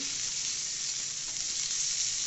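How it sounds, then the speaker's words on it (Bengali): Chopped vegetables with ginger and green chilli lightly frying in a pan, a steady bright hiss of sizzling oil, close and even, with no talking. "তারপরে কেটে রাখা সবজিগুলো একটুখানি ভেজে নেওয়া হালকা করে"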